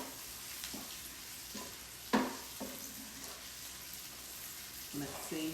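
Corn and breadcrumbs frying in a pan make a low steady sizzle, broken by scraping stirs and one sharp clatter of the utensil against the pan near the middle.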